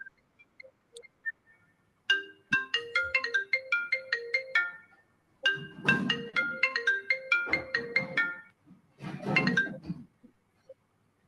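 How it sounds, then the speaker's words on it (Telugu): A phone ringtone plays a repeating melodic chime in bursts separated by short pauses, with clear bell-like tones close to the listener and no talking. "కాల్ వచ్చినట్టు ఉందండి"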